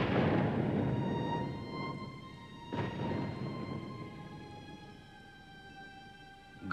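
Thunder rumbles through a storm scene in a TV series, a loud low roll that fades, then a second sharp crack and rumble near the middle, with a sustained tonal hum beneath.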